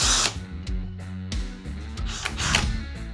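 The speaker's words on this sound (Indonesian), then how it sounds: "Cukup lumayan berat, tapi dia tenaganya masih sangat kuat untuk pengeboran ya" A Mollar CID20500-U cordless impact drill bores into concrete, its motor whining in close, loud bursts that stop and restart several times, with rattling grinding from the bit.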